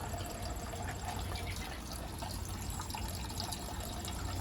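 Gasoline runs steadily through a siphon kit hose from a jet ski's tank into a bucket, making a continuous, close, even trickling wash with no pauses.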